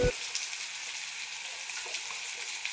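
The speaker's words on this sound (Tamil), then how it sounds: "நல்லா எண்ணெயிலே வதங்கட்டும்" Carrot, cabbage and capsicum sauté in oil in a pan with a soft, steady sizzle that stays faint throughout.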